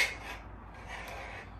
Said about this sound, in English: I'm going to try to get this off of here, scrape it off.